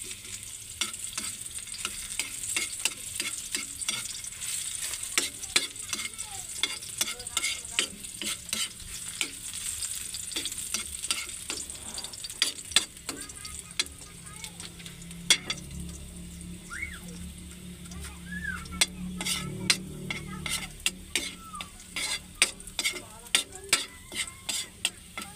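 Garlic frying in a pan while being stirred until golden brown, with steady close sizzling broken by repeated scraping clicks of the utensil across the pan, then a brief splash of running water.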